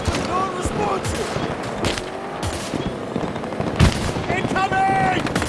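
Scattered gunshots and machine-gun bursts in the shooter Battlefield 2042, mid-distance and irregular, mixed with shouted in-game voices and battle noise.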